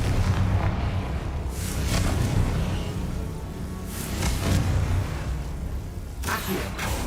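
Fire spell explosions from a Harry Potter video game boom heavily, with several loud rumbling blasts rolling one after another over a dense continuous roar.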